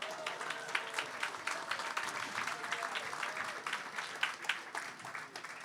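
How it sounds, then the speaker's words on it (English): A crowd at an anniversary gala for CKCU radio volunteers applauds steadily, a dense wash of many hands clapping throughout, moderately loud in a hall. "Give yourselves a round of applause."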